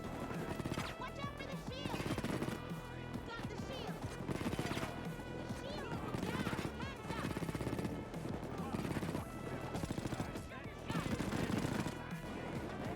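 Gunfire in the video game Payday 2, dense continuous bursts of automatic weapon fire layered with game music and effects, steady and loud throughout.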